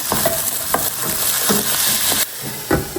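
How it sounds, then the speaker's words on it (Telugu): Zucchini, eggplant and garlic with a pinch of salt fry in a pan, giving a steady sizzle broken every half second or so by sharp scrapes and taps as the vegetables are stirred. "జుకీనీ అండ్ ఎగ్ ప్లాంట్ వేసిన, కొంచెం గార్లిక్ వేసిన అండ్ లిటిల్ బిట్ సాల్ట్ వేసి ఇది కుక్ చేస్తాను"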